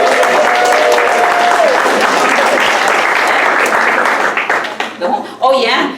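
Loud, sustained audience applause and cheering for the treasurer at a LULAC scholarship award dinner in Greenfield, California, dense clapping with a whistle and voices mixed in, thinning out toward the end.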